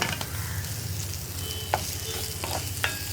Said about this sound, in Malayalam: തക്കാളിയും ചേർത്ത് നന്നായിട്ടൊന്ന് ഇളക്കി മിക്സ് ചെയ്തെടുക്കുക